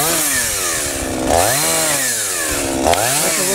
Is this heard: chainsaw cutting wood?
yes